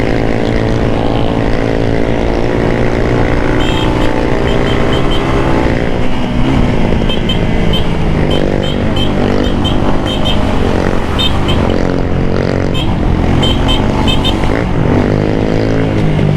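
A 250cc Rebel T Special Edition motorcycle rides along with a loud, constant engine drone and buzzing whine that holds steady throughout, with wind rush and a voice faintly mixed in.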